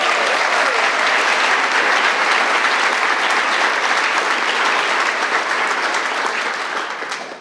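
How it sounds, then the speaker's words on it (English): An audience at a storytelling night in the Mill Valley Library gives loud, sustained applause mixed with cheering, a dense wash of clapping that carries on for about seven seconds before fading at the end. "we get a big cheer for all of our speakers today?"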